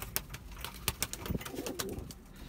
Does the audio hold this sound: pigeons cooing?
yes